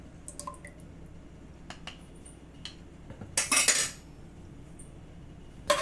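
A utensil scrapes and clinks against a metal pressure cooker while stirring seeraga samba rice and lentils for venpongal, with soft wet squishing, followed by a brief burst of sizzling or rattling, close and quiet.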